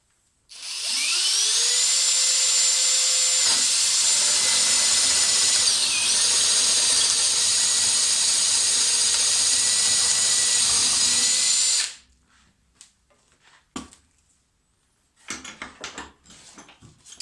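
A Star M No. 5010AT adjustable circle cutter bores through wood without a backing board, a loud steady high-pitched whine for about eleven seconds, then stopping, followed by faint scattered knocks and handling sounds.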